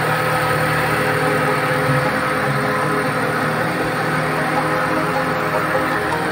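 A 2004 Honda Jazz engine idles steadily after starting, fresh from an alternator and radiator replacement, a continuous close, loud hum holding an even level throughout with no talk.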